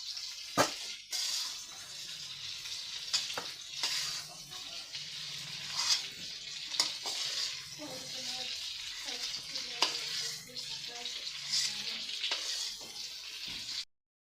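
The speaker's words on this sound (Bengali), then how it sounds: "হালকা লাল করে চিংড়ি মাছ ভেজে নিলাম।" Prawns sizzling and frying in a pan, a steady close crackle with intermittent stirring scrapes and clacks over nearly fourteen seconds, no voices.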